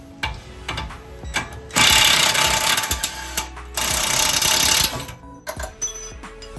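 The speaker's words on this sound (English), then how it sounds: "Run this thing all the way out with the ratchet." A hand ratchet spins a bolt out on a Toyota Sienna Hybrid during a lift kit install, giving a long run of rapid clicking with a second dense burst later, alone and fairly close.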